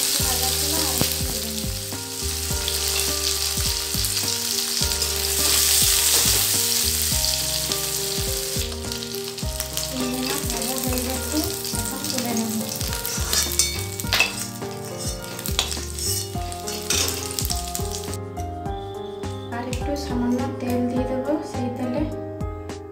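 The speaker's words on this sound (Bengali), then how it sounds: "সেই তেলে চিংড়ি মাছগুলো ভেজে নেব।" Prawns sizzle steadily in hot oil in a home kitchen, cooked for a Bengali banana flower and prawn ghonto. The frying hiss runs continuously under louder background music.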